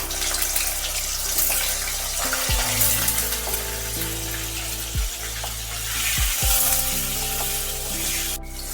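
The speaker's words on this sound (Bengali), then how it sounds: "তেল গরম হয়ে গেছে, কেটে রাখা আনাজগুলো এবার ভেজে নিচ্ছি। প্রথমে দিয়ে দিচ্ছি আলু" Potatoes and vegetables fry in hot mustard oil, giving a constant close sizzle over a low steady hum, with a few brief clinks and shifts along the way.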